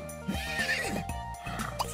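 A video-game horse gives a clear whinny near the start, with hoofbeats shuffling and another short snort near the end, all up close over quiet game music and no talk.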